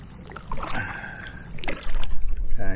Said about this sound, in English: I'm paddling upstream.